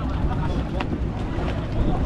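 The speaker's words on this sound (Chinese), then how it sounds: "我哋架潜艇唔系快艇。" Semi-submarine tour boat engine on the sea off Bali, a continuous close, droning rumble mixed with gusty wind noise and water, voices briefly audible underneath.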